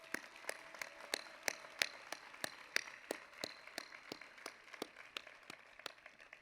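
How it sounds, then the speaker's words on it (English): Sparse, faint applause at a college commencement ceremony, individual hand claps landing in an uneven rhythm with a distant, roomy quality, no talk. "let's give him a round of applause for his recognition"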